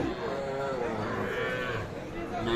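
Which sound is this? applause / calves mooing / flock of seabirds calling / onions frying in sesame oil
calves mooing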